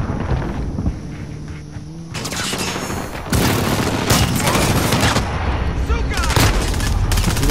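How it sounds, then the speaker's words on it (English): Loud, close explosions and rapid bursts of gunfire from an airstrike in Modern Warfare team deathmatch dominate the scene, with rumbling booms layered over continuous shooting. "Allies received airstrike incoming."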